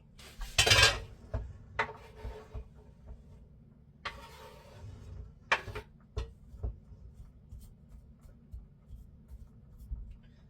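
Chopped carrots and ginger are tipped into a pot with a sharp clattering rush of pieces and utensil clinks, followed by scattered knocks and scrapes of cookware, close and fairly quiet.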